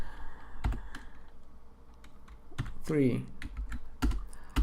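Python code being typed on a computer keyboard, a few sharp scattered keystrokes with a short spoken word in the middle.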